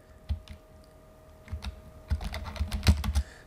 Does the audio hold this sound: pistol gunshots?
no